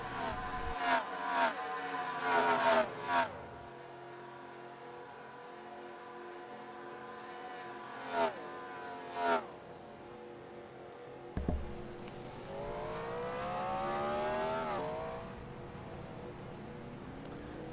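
Race cars in a stock-car racing video game pull into pit road, their engines rising and falling in short bursts and a longer sweeping pass, with quieter gaps of low idle between.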